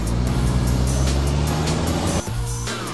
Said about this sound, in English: Water carrier truck.